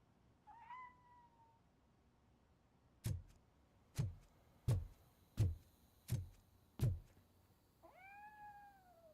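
Grumpy the cat in RoboCop: Rogue City gives a short meow at the start and a rising meow near the end, separated by six evenly spaced loud thumping footsteps.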